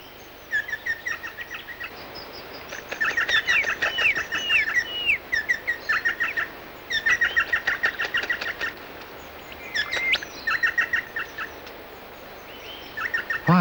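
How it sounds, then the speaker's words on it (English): Crimson rosellas call from a patch of water under dense ferns in the rainforest, repeated bursts of bright chirping and piping notes in short phrases, moderately close, with no talking. "In this one, crimson rosellas often bathe."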